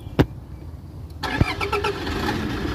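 Engine start of a 2012 Toyota Fortuner with a diesel VNT turbo engine: a click, a brief crank, then the engine catches and settles into a steady, close idle.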